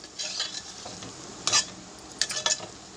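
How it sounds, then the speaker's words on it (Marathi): A butter paneer masala mixture of ground onion and tomato paste is stirred in a frying pan, giving soft sizzling under a few short scraping strokes of the spoon. "मस्त मिश्रण हलवून घ्यायचं आहे आपल्याला"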